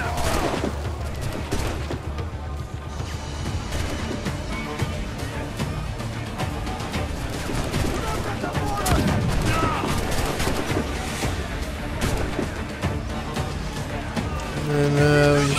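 Gunfire crackles in the pirate-era action game Assassin's Creed IV: Black Flag, with a dense, continuous clatter of shots and combat noise running the full length, loud and close, and a voice speaking over it.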